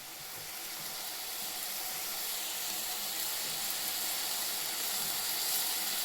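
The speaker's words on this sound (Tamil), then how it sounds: "அதனால தான் நம்ம சுண்டைக்காயை நெய்யில் போட்டு வறுக்கிறோம்." Turkey berries fry in ghee over a medium flame, giving a steady, bright crackling sizzle that builds slightly and runs on its own without talk.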